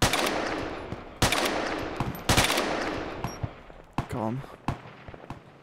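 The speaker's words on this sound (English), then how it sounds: "Can hear some snipers." Gunfire in ARMA 2 Wasteland mod: several sharp, loud shots crack out at irregular intervals over constant background noise, with someone speaking briefly near the end.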